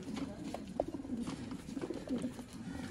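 Breeder pigeons coo softly and repeatedly in low throaty murmurs, several birds overlapping at moderate distance with no talking.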